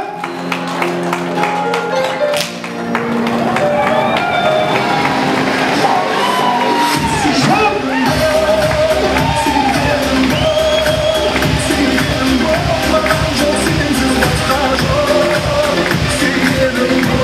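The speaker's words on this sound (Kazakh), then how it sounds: "Шапалақ қайда ағайын ағайын. Шапалақ!" Wedding guests cheering loudly, a dense crowd of shouts and whoops building into a sustained roar that fills the space, with music underneath.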